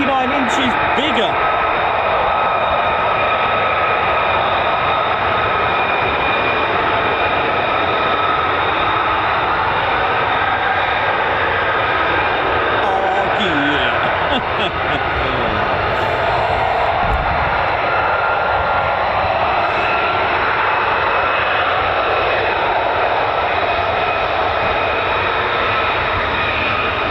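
An F-35 fighter jet with a Pratt & Whitney F135 engine at RAF Lakenheath gives a loud, steady jet roar that fills the whole stretch while a person talks over it.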